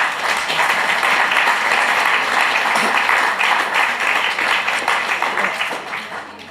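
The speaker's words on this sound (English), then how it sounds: "I don't usually get applauded for going through employment law." Audience applause following a talk on employment law, sustained broadband clapping from a room full of listeners, steady and fairly loud throughout before tapering slightly at the end.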